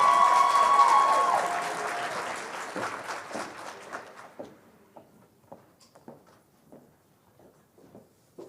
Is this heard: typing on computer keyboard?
no